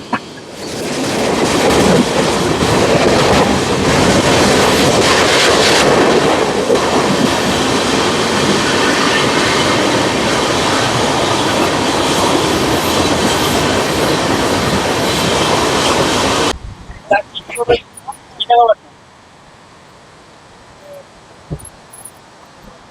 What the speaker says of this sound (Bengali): এই মুহূর্তে 12704 সেকেন্দ্রাবাদ থেকে হাওড়া ফলকনুমা এক্সপ্রেস।